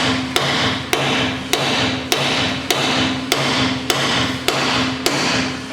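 Hammer striking the ball joint on a 1997-2004 Ford F150 to knock it loose during CV axle replacement: about nine sharp metallic blows at a steady one-per-second rhythm, close and loud, over a constant hum.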